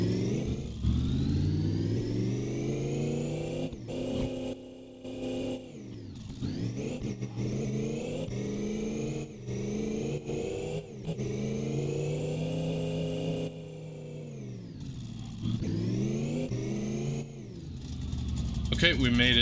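Car engine revving hard in the driving game My Garage, a steady high-rpm drone that rises and falls in pitch through repeated throttle sweeps, loud and continuous for the whole stretch.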